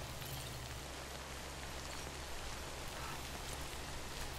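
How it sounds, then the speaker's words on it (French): Steady rain falls in the video game Death Stranding, a constant soft hiss that holds at a low, even level from start to finish, with no voices. "vous pouvez tout simplement en fait attendre que la pluie s'arrête"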